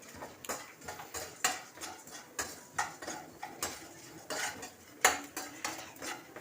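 Tamarind is being dry-roasted in a pan for pirandai thuvaiyal, with a spoon scraping and clinking against the metal in a steady rhythm of about two strokes a second, close and fairly quiet.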